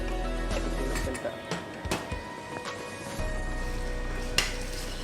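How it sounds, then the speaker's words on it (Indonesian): Sweet-and-sour gourami sauce is stirred in a pan, with soft sizzling broken by several sharp clinks and scrapes of the utensil against the pan; a voice speaks quietly in the background. "Aduk dulu sebentar."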